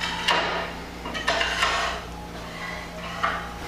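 Metal clanks and knocks as a workpiece is set into the jaws of a metal-cutting bandsaw, a few sharp bangs and scrapes spaced irregularly, close up with no talking.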